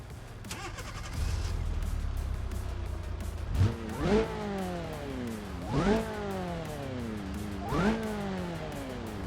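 A front-wheel-drive car engine in the BeamNG driving game revs hard three times in a row, each rise and fall of pitch sweeping over a low idling rumble, loud and close with no talk.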